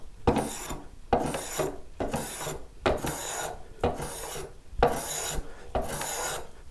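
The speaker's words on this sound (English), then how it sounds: "One method I've used in the past is with a spoke shave" A spokeshave takes a fine cut along a Telecaster guitar body, giving six evenly spaced rasping strokes, each a close, bright scrape of about a second with short pauses between.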